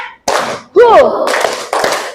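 Children in a classroom clap in short, loud rhythmic bursts following a counted pattern, with a teacher's voice leading between the bursts.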